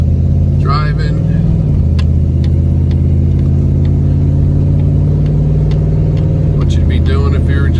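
A 1992 Camaro fitted with a Corvette transmission servo cruises in ordinary driving, its engine humming steadily with a couple of brief revs as it shifts up through the gears.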